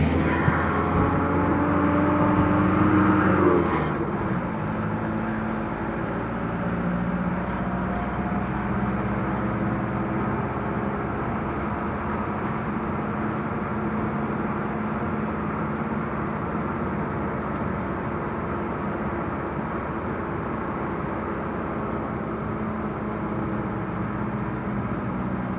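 A camper van cruises along a road in Germany, its engine and tyre rumble a steady, close drone that holds evenly throughout with no voices.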